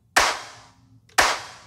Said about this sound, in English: A pretty simple clap sample. Just got some of the same bit crusher on it that I had on the snare.